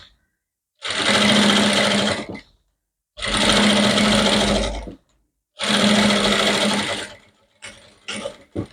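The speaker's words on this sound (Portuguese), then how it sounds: "Vou passar uma costura aqui do lado do avesso." Sewing machine running in three sustained bursts of stitching, each lasting one to two seconds with short pauses between, stitching a seam on the wrong side of a fabric handbag, followed by brief fainter handling noises.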